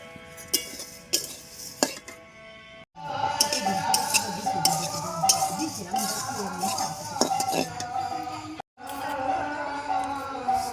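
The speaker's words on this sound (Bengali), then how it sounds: "ভালোভাবে নেড়ে চেড়ে আট থেকে দশ মিনিট সময় নিয়ে নেড়ে চেড়ে একদম মুচমুচে করে ভেজে নেব" Flattened rice dry-roasted in a pan without oil and stirred, giving steady scraping and clinking of a utensil against the pan, busy and continuous with two brief pauses.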